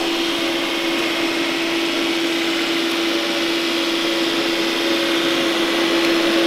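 A Dreame X50 Master robot vacuum cleaner runs with a loud, steady motor whine and constant airy suction hiss, unbroken throughout with no voices.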